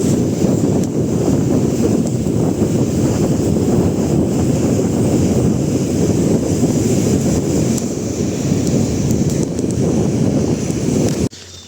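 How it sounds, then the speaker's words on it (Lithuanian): Strong seaside wind at Palanga buffets the microphone in a loud, continuous low roar throughout, cutting off abruptly at the very end. "Vėjas didelis, nežinau ką."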